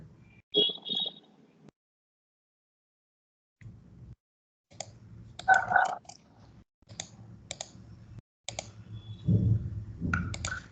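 Sharp computer mouse clicks, several scattered single and double clicks with short pauses between them, sounding close and fairly clear in a quiet room.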